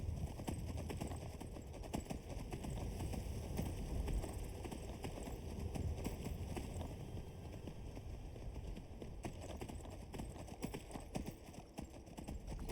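Horse hooves gallop in a steady clip-clop rhythm through the Skyrim video game during horse archery, a continuous run of close, moderately loud footfalls over a low rumbling background, with no talk.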